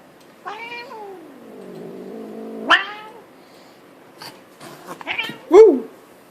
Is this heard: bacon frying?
no